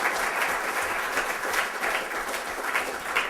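An audience at a lecture claps steadily in a sustained, even round of applause that fills the whole stretch with dense, crackling hand claps and no voices on top.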